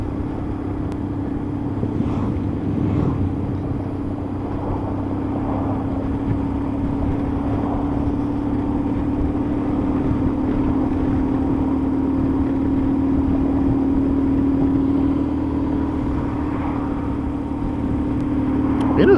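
A BMW 1150GS motorcycle engine drones steadily while riding on rough roads, a sustained low hum with a slight rise in revs toward the end.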